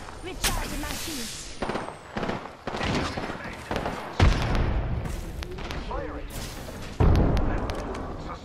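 Gunfire in a first-person shooter video game, with bursts of shots and sharp booms cutting through continuous battle noise while a voice talks over the action.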